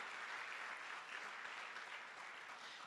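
A church congregation applauds in a continuous, even wash of clapping that sounds distant and fairly faint, with no break across the short stretch.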